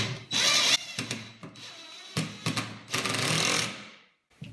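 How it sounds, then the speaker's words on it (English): An impact drill driving screws whirs in several bursts of varying length, loud and close, with brief pauses between runs. "And the noise you hear is this is an impact drill."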